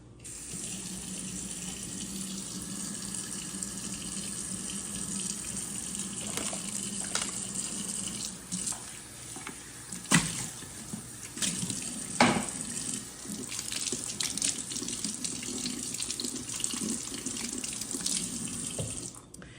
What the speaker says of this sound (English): you wanna make sure you clean it in a little soap and water, and then rinse it